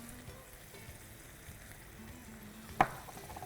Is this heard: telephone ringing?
no